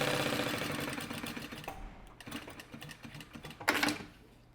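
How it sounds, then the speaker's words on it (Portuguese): Sewing machine stitching a fabric card wallet, a close rhythmic needle chatter that fades out toward the middle, then returns in short bursts. "em cima também vou fazer uma costurinha"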